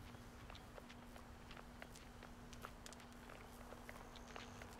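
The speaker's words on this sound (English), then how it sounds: "I hear footsteps." Footsteps in a horror survival video game, a steady run of soft, quiet steps over a constant hum and faint background noise, with no talking.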